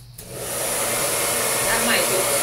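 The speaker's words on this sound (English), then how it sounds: "I am going to give my hairdryer a go" A hairdryer set on low clicks on and blows a steady, close airy whoosh over alcohol ink, building slightly and running alone without talk.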